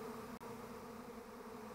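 A honeybee swarm hums steadily around an empty hive in an apiary, a dense, continuous buzz of many insects heard close and alone, with one brief sharp dropout partway through.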